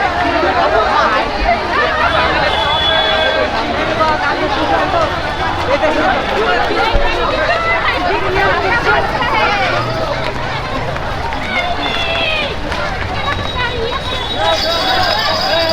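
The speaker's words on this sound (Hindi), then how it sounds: "अचानक से सब लोग दौड़ पड़े" A dense crowd at a Durga Puja pandal queue in Kolkata surges into a sudden run, a constant loud babble of many voices and shouting with scattered footsteps, whistles and a horn-like tone near the end.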